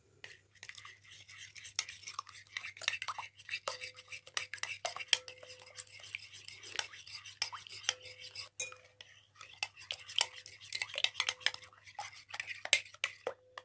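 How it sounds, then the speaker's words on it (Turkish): Salt and baking powder whisked together in a bowl: rapid, close metallic clinking and scraping in irregular bursts against a quiet background, with faint low murmuring now and then. "Şimdi bunları bir çırpalım"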